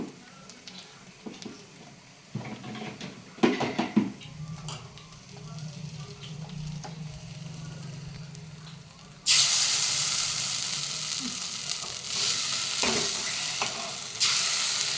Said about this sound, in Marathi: आता यामध्ये हा वाटलेला मसाला घालायचा आहे आपल्याला या तेलामध्ये।